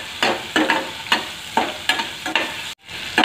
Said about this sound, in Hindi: इसी के साथ थोड़ी देर भून लेते हैं और जीरा भी डाल देते हैं